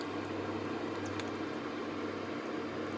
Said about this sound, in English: Beautiful bubbling.